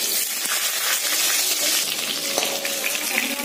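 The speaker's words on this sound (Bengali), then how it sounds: "তেলে ভেজে দেওয়া হচ্ছে বেগুনগুলো।" Eggplant pieces frying in hot oil in a pan, a steady, close sizzle and crackle that holds unbroken throughout, with no voices.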